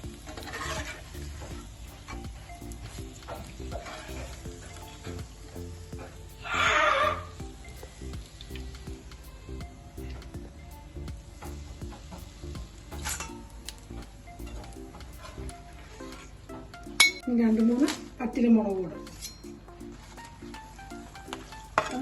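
Curry leaves fry and get stirred in a pan for a spicy Kerala snack mixture, a steady low sizzle broken by scraping stir strokes and a few brief clinks, close and without speech.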